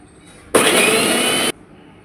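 A loud, steady mechanical whir of a kitchen mixer grinder grinding batter runs for about a second, starting and stopping abruptly, with quiet background before and after.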